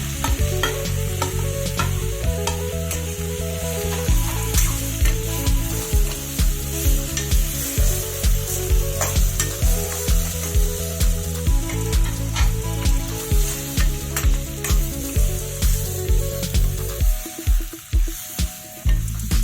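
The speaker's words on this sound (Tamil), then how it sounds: "வதக்கி வச்ச தக்காளி எல்லாம் எடுத்து ஒட்டுக்கா கொட்டி கிளறி விடுங்க" Tomatoes that were sautéed earlier are stirred with ridge gourd peel in a frying pan for chutney, giving a steady loud sizzle with rhythmic scraping strokes of the spoon throughout. No one speaks.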